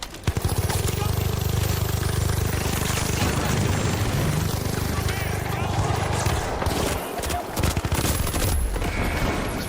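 Sustained rapid gunfire from the video game The Finals, dense loud bursts running almost continuously with excited voices talking over the action.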